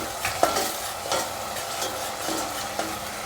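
Banana curry with kasuri methi roasting in a pan, a steady sizzle with a few soft scrapes of a spoon stirring, close and moderately loud, no voices.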